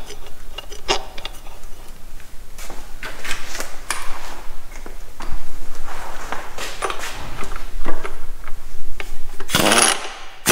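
A ratchet tightens a screw on a Land Rover Defender TD4 clutch. Close, irregular metallic clicks and clatter form a workshop sequence, with faint talk.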